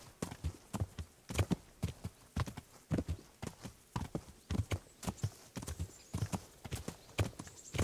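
Steady clip-clop of horse hooves trotting at an even rhythm in the video game Kingdom Come: Deliverance, close and clear, with no voices.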